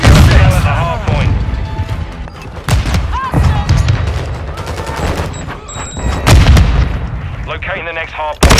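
Dense gunfire and heavy explosions, including a grenade blast, boom through a Call of Duty: Modern Warfare II battle, loud and continuous, with shouted voices over the combat.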